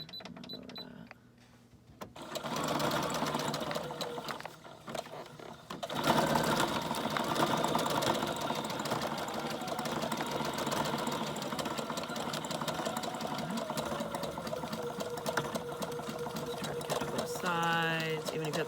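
A sewing machine stitches through a paper envelope and back-stitches. It whirs steadily and loudly for most of the time after a brief start-stop near the beginning.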